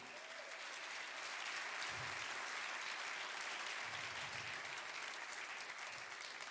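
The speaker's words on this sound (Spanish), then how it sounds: "Dele un aplauso al Señor." A church congregation applauds during a sermon, a steady, sustained wash of clapping heard from a distance with no break for the whole stretch.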